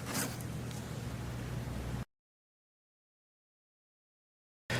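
A pen or marker drags in a straight line across a cardboard box, making a close, continuous scratchy scrape for about two seconds before the sound cuts to silence.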